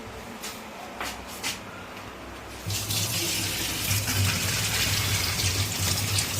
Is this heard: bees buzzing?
no